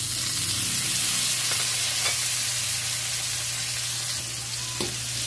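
Tomatoes sauté in a hot pan for a Filipino ginisang upo (bottle gourd stir-fry), giving a constant loud sizzle with light stirring scrapes and no talking.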